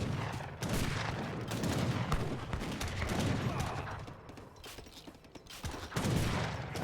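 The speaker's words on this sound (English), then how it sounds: "There's a big round of horse artillery and Gatling guns." Horse artillery and Gatling guns fire in a real-time strategy battle game, a dense, continuous crackle of volleys and booming shots rolling over each other at moderate level.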